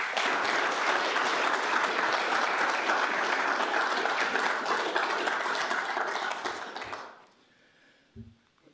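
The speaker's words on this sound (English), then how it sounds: "Let's give them a round of applause." A large audience applauds loudly and steadily at a city's State of the Civic presentation, a dense wash of clapping that fades out near the end, followed by a brief quiet knock.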